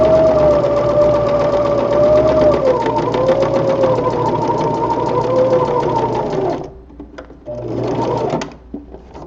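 A sewing machine stitches a reinforcing seam on spandex gloves, a loud, fast, steady mechanical whir with a rapid needle rhythm that runs for several seconds, stops briefly, restarts for a short burst, then halts.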